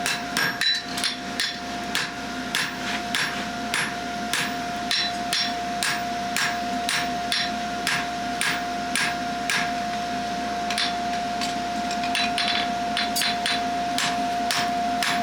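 A farrier's hammer rings on a horseshoe in steady, repeated blows, struck in a quick, even rhythm close by, with a sustained ringing tone between strikes.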